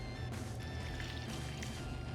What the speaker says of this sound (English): We're gonna pour in our beer stock